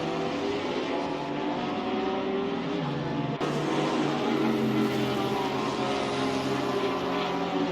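Race car engines in the Assetto Corsa video game, with Ferrari, Porsche and Lamborghini cars, drone steadily and loudly throughout, several engines overlapping in a continuous, slightly shifting roar.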